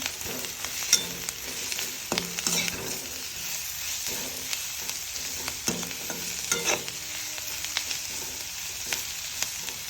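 Vegetables fry with curry powder in a pan for string hopper koththu, a continuous sizzle punctuated by repeated clattering stirs and scrapes of a spoon against the pan.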